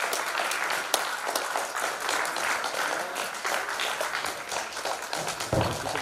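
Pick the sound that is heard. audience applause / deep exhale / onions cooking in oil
audience applause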